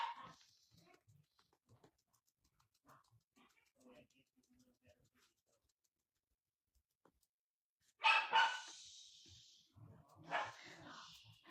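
Corgis bark loudly in two sharp bursts near the end, after a stretch of quiet, faint background sounds.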